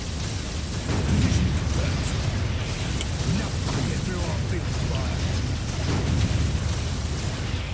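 Imperial Guard heavy artillery booms and explosions roll through a dense battle din in the strategy game Dark Crusade, with continuous low rumble and scattered bursts, loud and sustained, with game voices mixed in.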